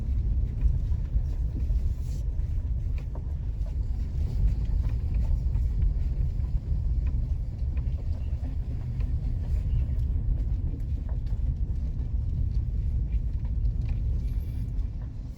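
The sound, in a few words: car driving slowly down a possible dead-end road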